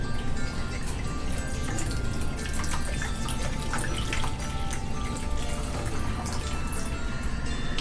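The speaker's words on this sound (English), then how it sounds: "get your alcohol and then pour it into a bowl right here." Alcohol pours steadily into a bowl for apple candy-making, a continuous splashing, trickling stream close by with no speech.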